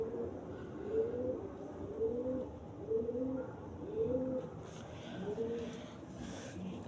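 A Rajshahi pigeon coos in a steady rhythm, about five soft, low rolling calls spaced roughly a second apart over a quiet background hiss.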